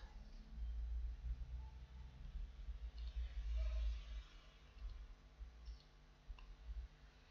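Faint, sparse computer mouse clicks over a low steady hum while someone works through Microsoft Teams settings for online teaching; no one speaks.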